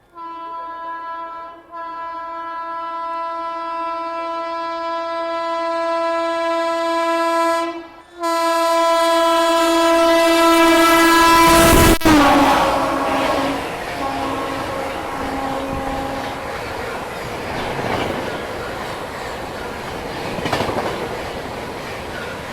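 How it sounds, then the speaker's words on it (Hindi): Indian express trains meet as the MP Sampark Kranti Express overtakes the Prayagraj special: a long, loud horn sounds over steady running noise, then a sharp whoosh gives way to rumbling, clattering wheels. "अब सामने से आ रही है एमपी संपर्क क्रांति एक्सप्रेस और ओवरटेक करी अपनी प्रयागराज स्पेशल को"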